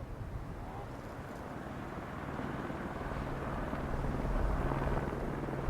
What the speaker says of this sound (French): Le deuxième jour, le son d'un hélicoptère perce le silence.